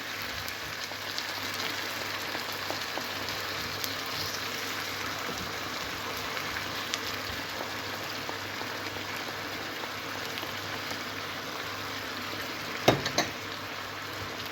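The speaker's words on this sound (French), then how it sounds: "Nous laissons mijoter quelques minutes, quelques secondes" Oyakodon sauce with soy sauce simmering in a pan, a steady close bubbling sizzle throughout with a brief clink of a utensil near the end.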